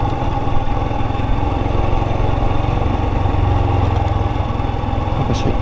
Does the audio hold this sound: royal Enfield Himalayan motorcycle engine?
yes